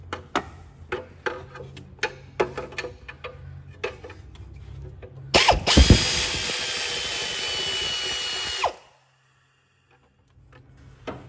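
A ratchet or wrench clicks rapidly while undoing heat shield bolts on a Chevrolet Cruze engine, then a loud impact gun whirs for a few seconds before silence, all close and without talk.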